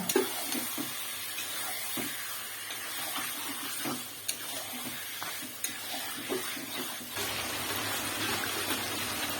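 Marinated biryani chicken fries with spices in a pan, a steady crackling sizzle dotted with scattered pops, close and even throughout with no voices.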